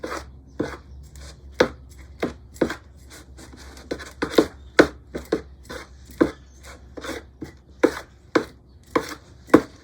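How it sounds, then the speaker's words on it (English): An old knob cutter trims lumps off a double-trunk thuja occidentalis in a series of about twenty crisp, close cuts and snaps, irregularly spaced, with quiet gaps between them. "These lumps could be trimmed back using my old knob cutter."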